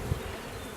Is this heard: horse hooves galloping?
no